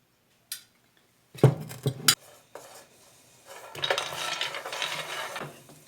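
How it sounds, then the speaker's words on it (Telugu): A spoon scrapes and clatters against a pan as almonds roast in ghee, with a few sharp metallic knocks early on, then a brief faint sizzle and a longer stretch of steady stirring. "బాదం పప్పులు ఇవి కొంచెం వేయాక స్పూన్ నెయ్యి వేసి వేయించుకోవాలి."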